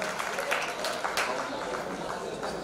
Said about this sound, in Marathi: एकदा जोरदार टाळ्या आमच्या वल्लभ किशोर भाऊ यांच्यासाठी झाल्या पाहिजेत।